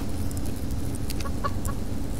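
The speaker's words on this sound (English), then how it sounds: "let's put this chicken in here" A chicken in the Subsistence survival game gives a few short, scattered clucks over a steady low ambient hum, fairly faint and with no talk.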